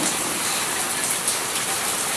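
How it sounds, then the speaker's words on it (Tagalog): Heavy rain in Bulacan pouring down steadily, a dense, loud hiss of drops on surfaces close by with no pauses. "Lakas ang ulan dito."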